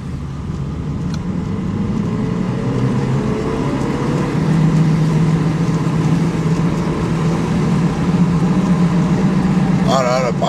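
Steady low hum and drone of aggressive off-road tires on a newly bought car, rolling continuously at speed with a loud, even rumble throughout and a brief faint sound near the end.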